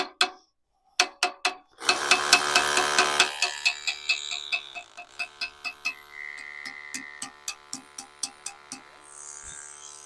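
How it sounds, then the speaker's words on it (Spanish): A hammer chips slag off welds on a wrought-iron garden sculpture: sharp metallic taps in quick irregular bursts, with a dense ringing flurry, then evenly spaced, fading knocks close by. "que sería un martillo para desbastar la soldadura"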